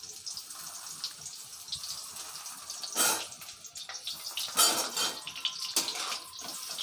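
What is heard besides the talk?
potatoes frying in oil in a clay pot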